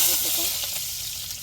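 Mustard seeds sizzle in hot oil, tempering a fish curry. A steady, bright hiss carries close and loud over brief faint crackles, with no clear speech.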